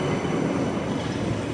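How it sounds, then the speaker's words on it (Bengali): Birmingham Metro tram arriving in the city centre: a steady, close rumble of wheels on rails with a faint metallic ring, continuous and without speech. "মেট্রো চলে এসছে"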